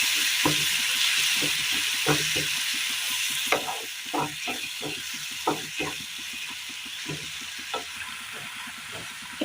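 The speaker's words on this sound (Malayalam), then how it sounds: "ഇനി നമ്മൾ ഇതിലേക്ക് ചേർത്ത് കൊടുക്കാൻ പോകുന്നത് അരച്ച് വെച്ചിരിക്കുന്ന ക്യാരറ്റാണ്" Ground carrot paste fries in a pan for curry: a steady sizzle with hiss, broken by rhythmic scraping stir strokes, close and alone with no talking.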